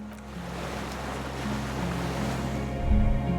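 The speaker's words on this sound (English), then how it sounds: "The skiff is swaying on the waves by the dock." In Disco Elysium, waves lap at a small wooden skiff moored by a dock, a soft continuous wash of water over a low steady hum, swelling slightly toward the end.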